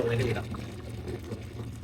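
Cold tap water pours steadily over hot boiled eggs in a vessel, a continuous, moderately loud rushing splash that eases slightly after the first moment.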